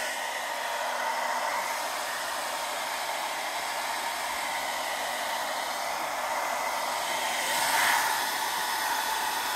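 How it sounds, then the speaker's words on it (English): Steady, close hair dryer roar drying Dollar Tree craft pieces, an even broadband whoosh that holds throughout with a slight swell near the end. "take that hair dryer to these. It'll dry them up super quick."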